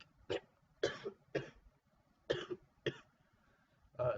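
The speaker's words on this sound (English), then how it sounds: "I've been kind of sick these last few days, so I'm coughing." Person who is sick coughs in six short, separate bursts, close and fairly quiet, with pauses between them.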